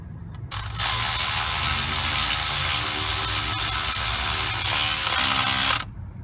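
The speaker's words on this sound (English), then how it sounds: "Or the electric ratchet. And tighten it all the way." An electric ratchet drives in a starter bolt on a 2.4 Malibu engine, whirring steadily and mechanically for about five seconds with a constant clicking ratchet buzz, loud and close, then cutting off abruptly.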